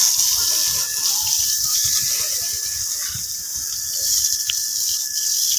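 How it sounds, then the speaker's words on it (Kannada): Continuous hiss of falling rain, steady and fairly loud, with faint patter and a thin high tone running underneath. "ಕುರು ಮಳೆ ಬಂದ್ಬಿಡ್ತು ತೊಳಿತಾ ಇರ್ಬೇಕಾರೆ ದರಿದ್ರದ ಮಳೆ"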